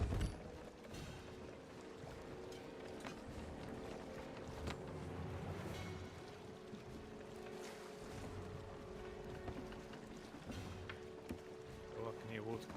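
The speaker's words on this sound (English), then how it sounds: "Oh, I can hear water coming in." Water sloshing and rushing around a sailboat at sea, a continuous wet churn under wind noise on the microphone, with people talking faintly over it.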